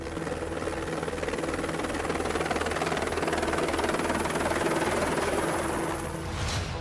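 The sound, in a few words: military helicopter fighting a forest fire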